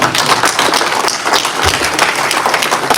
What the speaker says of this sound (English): thank you very much for that round of applause